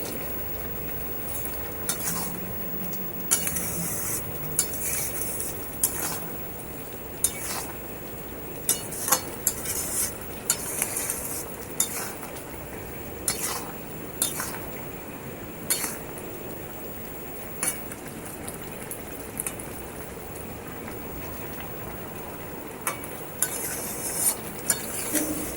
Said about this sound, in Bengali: ভিনিগারটা দিয়েও আমি ভালো করে নেড়েচেড়ে মিশিয়ে দেব